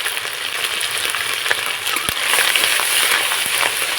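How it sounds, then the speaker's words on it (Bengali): Spice paste of ground cumin and red chili with salt and turmeric frying in a pan while being stirred, a close, steady sizzle with occasional scraping knocks of the spoon and no talk. "মশলাটাকে একটু নাড়াচাড়া করে ভেজে নেব"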